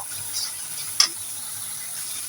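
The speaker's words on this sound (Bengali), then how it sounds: "দেখো বন্ধুরা মশলাটা কষানো হয়ে গিয়েছে, একদম তেলটা ছেড়ে দিয়েছে" Spices fry in oil in a pan with a steady, soft sizzling hiss, broken once by a single sharp click, heard close up and without talk.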